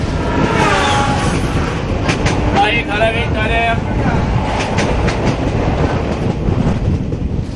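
An Indian Railways train rumbles steadily along the rails between Hyderabad and Chennai, with rhythmic clatter and occasional faint squeals, while voices murmur in the background throughout.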